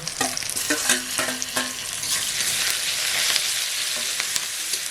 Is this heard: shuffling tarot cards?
no